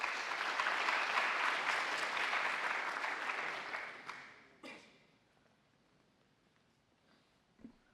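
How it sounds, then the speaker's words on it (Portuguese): An audience applauds the speakers at a conference at the TCU, with steady broadband clapping for about four seconds before it fades out, followed by a couple of faint knocks. "vamos dar uma salva de palmas para os palestrantes"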